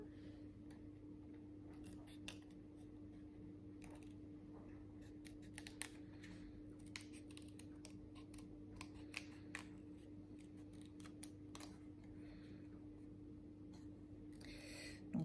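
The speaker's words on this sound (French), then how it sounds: "Je découpe mon petit gnome." Scissors snip through paper while a small gnome shape is cut out for a handmade Christmas card: quiet, close, irregular crisp clicks and snips over a steady low hum, with no talking.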